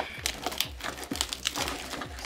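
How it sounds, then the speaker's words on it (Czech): Plastic parcel wrapping torn open by hand, close crinkling and ripping in quick uneven bursts over a couple of seconds. "To nějak pokusím roztrhnout ručně."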